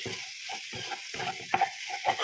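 Beef frying in its own rendered fat in a pan, stirred with soft periodic scrapes over a low, quiet sizzle, close by.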